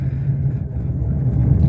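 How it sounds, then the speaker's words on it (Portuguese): A car engine idles steadily while warming up, a low, even rumble heard close by with a constant hum and no voices over it. "aqui o carro está em período de aquecimento"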